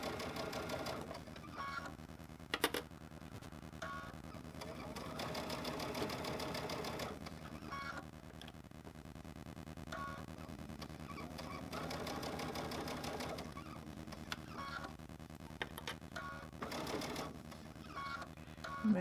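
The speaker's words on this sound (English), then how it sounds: "I'm just going to sew" A sewing machine runs in long bursts while stitching a honeycomb project together, a steady close whirring rattle with short pauses and a few sharp clicks between runs.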